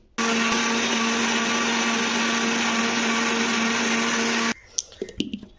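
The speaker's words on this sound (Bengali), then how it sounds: "তো চলো পাতাটাকে আমি পেস্ট করে নিচ্ছি" Bottle gourd leaves with mustard seeds whir into a paste in a kitchen blender, loud and steady for about four seconds before the motor cuts off and a few clattering knocks follow.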